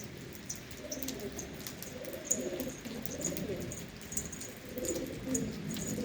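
A feather-footed wild pigeon coos in low, rolling phrases through a steady outdoor background, with faint high chirps from other birds scattered above.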